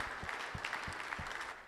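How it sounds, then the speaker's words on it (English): Audience applause at a business conference after a panel, a dense steady wash of clapping heard from a distance and fairly faint. "Please, a round of applause again, please, for our panelists."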